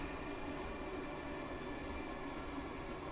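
A train in the Train Sim World 2 video game on the Cathcart Circle is under rheostatic braking, giving a steady, dense rumble and whirring drone with no clear breaks, heard alone at a moderate level.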